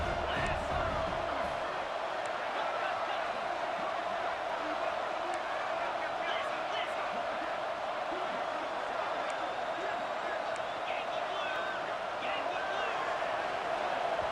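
A college football stadium crowd in a video game, a dense, steady roar of noise that stays even throughout, with a commentator talking over it.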